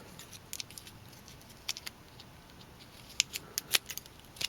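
A few quiet, irregular snips and clicks of scissors cutting tape, sparse and close, with faint background hiss between them.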